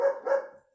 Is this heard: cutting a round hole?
no